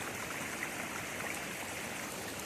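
A creek runs over a hiking trail after rain, a constant even rushing and trickling of water close by, with no voices.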